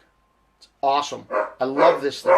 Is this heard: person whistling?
no